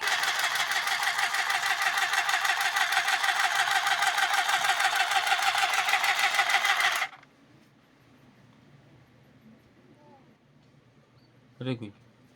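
Sewing machine stitching old cloth, a fast even rattling run for about seven seconds, close, then stopping into quiet with a brief knock near the end.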